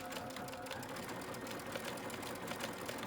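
A sewing machine runs steadily, sewing a decorative stitch that joins the inner and outer fabric of a bunny ear, with a continuous close mechanical whir and no pauses.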